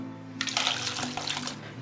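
A little water poured from a container into a bowl of ice cubes for an ice bath, a steady close splashing trickle lasting about a second, quiet and without speech.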